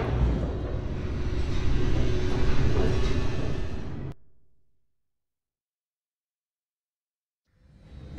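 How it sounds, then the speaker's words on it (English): A fast-descending elevator in The Stanley Parable 2 video game: a loud, sustained mechanical rumble and whoosh for about four seconds that cuts off abruptly into silence, followed by a faint rise of sound at the end. "The elevator raced downward, plummeting towards an unknown fate."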